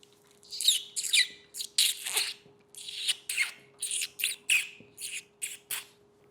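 Rapid series of short, high-pitched squawky chirps from a voice mimicking a parrot, choppy and fairly quiet, with no talking.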